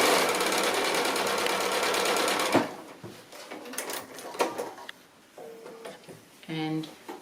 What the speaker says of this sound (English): So I'll just sew this short seam.